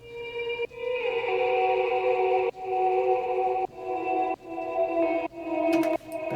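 Sustained guitar part drenched in Valhalla Shimmer reverb, playing as the drop of an electronic track, with bright shimmering pitched layers over a low bed, swelling in repeated phrases with sharp cuts between them, loud and alone without talk.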